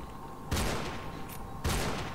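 Two sharp sniper rifle shots in S.T.A.L.K.E.R. New Arsenal mod, about a second apart, each a loud crack with a short rolling tail over a quiet ambient hum.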